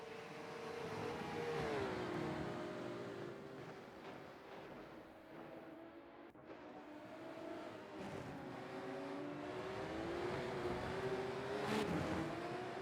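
Porsche 911 GT3 Cup race cars at Jeddah in Rennsport, a steady engine drone whose pitch rises and falls as the cars run on, moderately loud and continuous.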